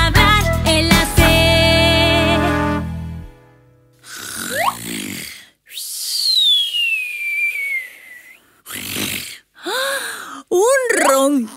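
A voice imitates a dinosaur snoring with a run of loud, exaggerated snore-like rasps, squeaks and whistling glides in a playful children's song, broken by short pauses.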